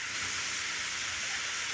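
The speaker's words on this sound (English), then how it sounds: "Or just a little sound of rain." Steady rain falling outdoors under a big tree, a dense, even hiss that stays loud and unbroken throughout with no voices.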